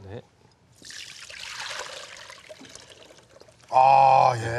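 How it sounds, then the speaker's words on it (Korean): Cooked udon noodles are drained through a sieve, and water pours and trickles away for a few seconds before a voice speaks over the end. "우동은 바로 네. 체에 받쳐서 물기를 빼도록 하겠습니다"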